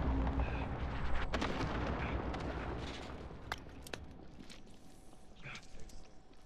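Sniper fire in a multiplayer shooter game cracks out as several sharp, distant-sounding shots scattered over a rumbling battlefield background of explosions.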